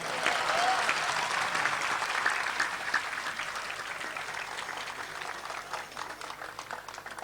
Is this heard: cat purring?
no